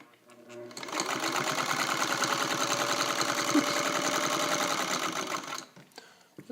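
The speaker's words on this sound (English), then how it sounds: "I'm going to start out with a long stitch, which is what I normally do" A fully restored Singer 301A sewing machine running a long stitch, a steady rhythmic mechanical whir and ticking at medium speed for about five seconds, close and fairly quiet, starting and stopping cleanly.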